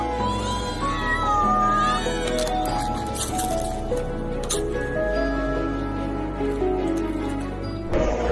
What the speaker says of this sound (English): This man wakes up to see 10 cats screaming for breakfast on his.